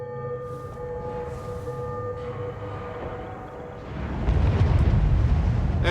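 Missiles fire and detonate in the video game Starfield, a loud sustained roar with siren-like tonal layers, swelling into a heavier, broadband rumbling blast toward the end.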